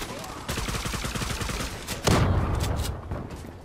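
Rapid automatic gunfire from the Zula online shooter game, a close, loud, sustained stream of shots that rattles on for about three seconds, swelling into a heavier, denser burst partway through before tapering off.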